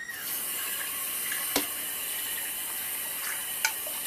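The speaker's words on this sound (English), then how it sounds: "Just going to rinse the rest of them." Tap water runs steadily into a kitchen sink while beans are rinsed, a continuous close hiss with a couple of faint splashes and knocks, no voices.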